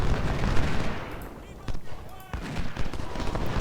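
Six-pounder cannon and musket fire crackle through a Civil War battle in the strategy game Ultimate General: Civil War, a dense run of sharp shots and booms under a steady rumbling din.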